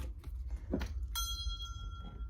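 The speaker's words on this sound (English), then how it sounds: "I'm trying not to ring the bell very loud" A small bell is rung softly once, giving a single clear, bright ring that hangs and fades slowly in a quiet room after some faint shuffling.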